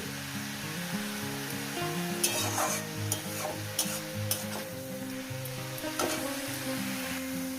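Bathua greens with dried shrimp frying in a pan, giving a steady close sizzle broken by scraping stirring strokes, with soft background music running underneath.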